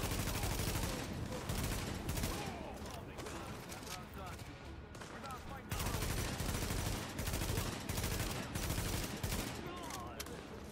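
Rapid gunfire bursts from the shooter game The Division, loud and dense across the whole stretch with short gaps, mixed with game effects and a player's voice talking over it.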